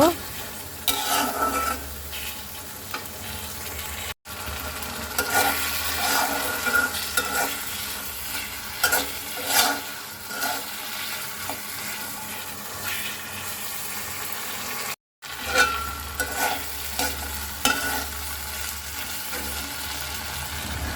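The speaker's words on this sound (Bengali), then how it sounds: "এখন আমি এই শুটকিগুলো ভালো মতো কষিয়ে নেব" Dried fish gets sautéed in a cooked spice paste, with steady close sizzling and repeated scraping stirs over about twenty seconds, briefly cut twice by short silences.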